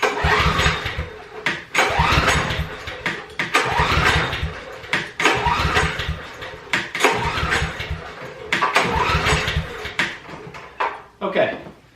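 A dead generator is pull-started again and again without catching. About five harsh rasping recoil pulls come in quick bursts with short pauses between them, and the engine never fires.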